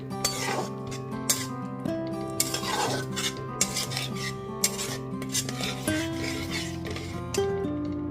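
A spice paste thinned with a little water is stirred in a pan over low to medium flame, giving a continuous scraping rasp with repeated clinks of the utensil against metal, close and even-paced.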